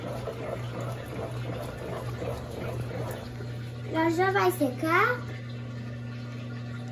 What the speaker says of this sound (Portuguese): Agora então começou a acomodação de fato e começou a drenagem.